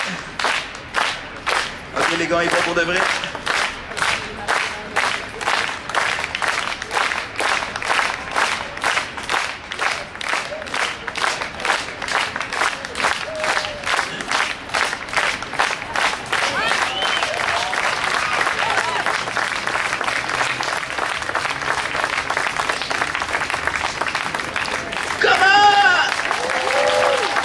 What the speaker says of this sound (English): Please give her a hand. Clap, clap, clap.